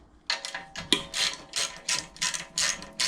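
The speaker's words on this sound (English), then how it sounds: "So we'll take off these 4 8mm bolts." A hand ratchet loosens the 8mm valve cover bolts on a 212 small engine being built for a drag minibike. It clicks in quick, close, repeated strokes with no talk.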